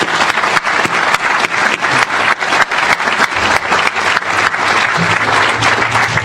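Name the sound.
audience applause at groundbreaking ceremony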